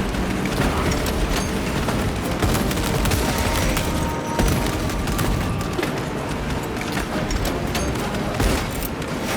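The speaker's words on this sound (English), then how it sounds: "Throwing frag grenade!" Frag grenade blasts and heavy gunfire in the video game Warhammer 40,000: Space Marine 2, a dense, continuous roar of rapid shots and booming explosions that stays loud throughout with no pauses.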